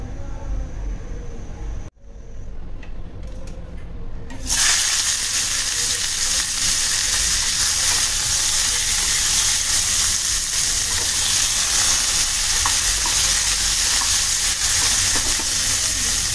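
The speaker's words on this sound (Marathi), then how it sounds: "थोड्या तेलात फ्राय करून घ्यायचं" Bitter gourd drops into hot mustard oil with a brief quiet pause, then a loud, dense sizzle swells and holds steady close by.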